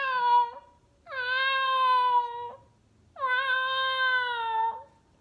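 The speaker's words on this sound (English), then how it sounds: "know that that's her meow" A cat meows at night outside a second-floor apartment, two long, drawn-out plaintive cries with a short call before them, fairly clear against a quiet background.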